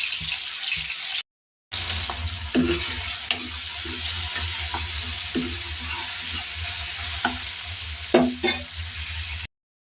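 A few cashew nuts are stirred in a hot pan, with a steady soft sizzle and occasional scraping clicks of the spoon against the pan, heard alone without talk.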